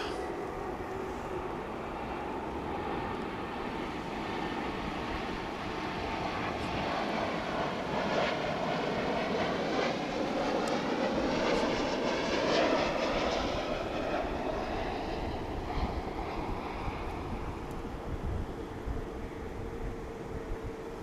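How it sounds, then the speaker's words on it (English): A Boeing 737 MAX 9 airliner arriving from Seattle at Dallas/Fort Worth Airport gives a continuous broad jet roar that swells and fades as it passes, heard at a distance with no talk. "coming in from Seattle. This is going to be a MAX 9."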